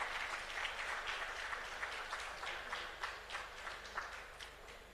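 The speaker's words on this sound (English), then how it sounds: "Another round of applause" A conference audience applauds a panel, a dense, even wash of clapping held at moderate level throughout with faint individual claps poking through.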